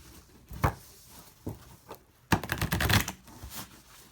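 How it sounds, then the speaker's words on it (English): Crisp bursts of tarot cards being shuffled and riffled, a few short flurries then a longer, louder run near the middle, with soft handling sounds between. "Give one more shuffle."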